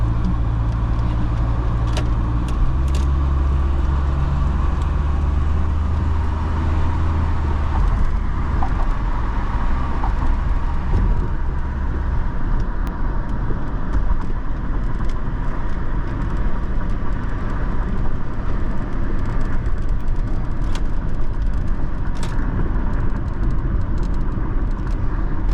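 A car's engine runs steadily while driving, probably an older car with a four-speed gearbox, giving a continuous low rumble with road and traffic noise for the whole stretch and no talking.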